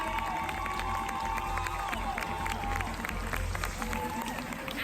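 An indoor crowd at the Philadelphia Cosplay Championships applauds and cheers for a Stormfly costume contestant, with steady clapping, scattered shouts and whoops, and a low hall rumble underneath, heard at a moderate distance.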